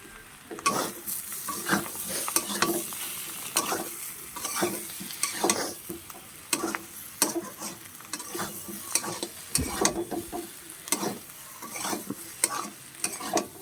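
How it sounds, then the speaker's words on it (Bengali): Potato chunks for aloo dum are stirred in hot oil, with repeated scraping strokes of a spoon in the pan over a soft, steady sizzle, close and moderately loud. "এমনভাবে কষাই করতে করতে ভালোভাবে একটু নাড়াচাড়া দিতে হবে যাতে পুড়ে না যায়"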